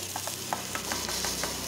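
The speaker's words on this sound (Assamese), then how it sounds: "মটৰখিনি অলপ সিজালৈকে ভাজি ললো" Peas fry in hot oil in a pan, a close, steady sizzle broken by several short scraping knocks of stirring.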